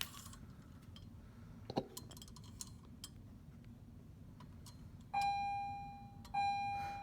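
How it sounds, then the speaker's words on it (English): A school bell sounds as two bright electronic chimes near the end, each ringing out and fading. Before them, a quiet room holds a few faint clinks. "Oh, there is the bell."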